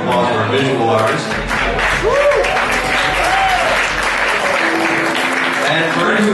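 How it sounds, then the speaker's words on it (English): An audience at a live music show at the Falcon in Marlboro applauds a visual artist, steady clapping filling the room, with a voice speaking over it. "Let's give a round of applause for our visual artist."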